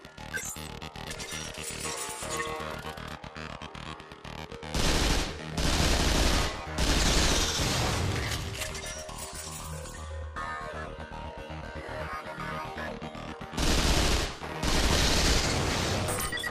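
Rapid bursts of gunfire from a weapons-systems test in the Vanquish video game hammer out in loud volleys, with heavier blasts and impacts around five to eight seconds and again near fourteen seconds, close and dense, without talk.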